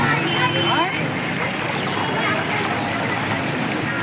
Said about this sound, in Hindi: पानी का स्पीड बहुत ज़्यादा है